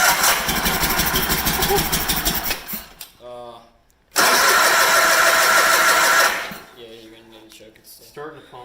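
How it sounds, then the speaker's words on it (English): A 1987 John Deere 318 lawn tractor with a repaired starter cranks, then its engine catches and runs loudly nearby in two bursts separated by a brief stop, with people talking in the pauses and near the end. "Alright, first start with the starter repaired."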